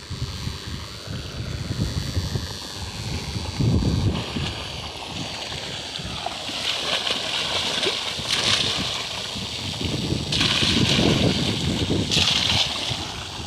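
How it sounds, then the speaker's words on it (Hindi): An electric water pump motor on a farm pushes out water, a continuous loud rushing and gushing mixed with wind buffeting the microphone, with brighter surges of splashing in the later part. "लाइट आ गई है, मोटर चालू हो गई है।"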